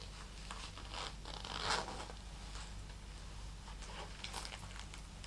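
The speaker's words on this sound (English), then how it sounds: "the zipper," A zipper on a tiny purse is pulled in short, quiet, close strokes, a soft scratchy rasp with brief pauses in an otherwise quiet room.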